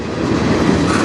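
A train rumbles past close by, loud and steady, with a dense rolling rattle of wheels over track and no voices.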